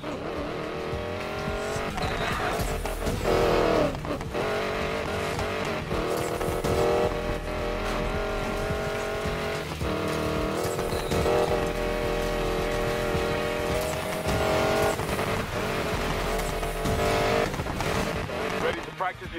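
A prototype hypercar's racing engine drones loud and continuous in Need for Speed Payback, with bursts of tire squeal and skidding, while voices talk over it throughout.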